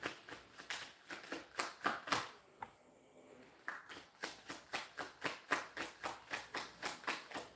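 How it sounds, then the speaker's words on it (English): Rapid riffling of playing cards, a steady run of crisp flutters with a brief pause midway, close and fairly quiet. "If I shuffle this deck 3 times and nothing comes out"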